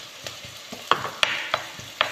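Crushed garlic sizzles in a hot pan while being stirred for moloukhia with chicken, a steady frying hiss broken by about seven sharp scraping strokes of the spoon, close and clear with no talking.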